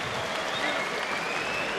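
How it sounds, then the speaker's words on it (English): Subdued applause from a boxing crowd at the end of the seventh round of a scrappy fight, a steady, even patter of clapping with a faint murmur behind it. "Subdued sort of crowd at the end of that 7th round."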